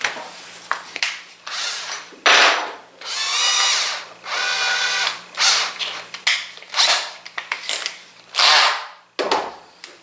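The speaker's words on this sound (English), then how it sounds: "So I'm going to drill these out to 5/16" A power drill whines in repeated bursts, drilling out holes to 5/16 inch, spinning up and cutting, then stopping, with short pauses and clicks between runs, loud and close.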